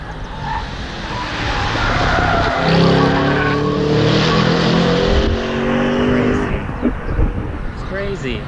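Race cars at the Detroit Grand Prix roar past at speed, loud and close, with engine whine, revving and tire noise rising and falling as each car goes by, while a person talks over it.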